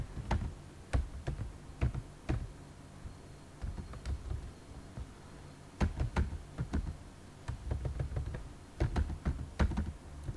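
Close computer keyboard typing while writing a Python print statement, irregular bursts of crisp key clicks with brief pauses between words, steady and moderately loud with no talking.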